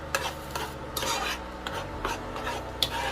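A small electric hot plate hums and crackles while fish fries in a pan, with steady sizzling broken by soft scraping stir strokes and a few light metallic clicks, close up and with no talking.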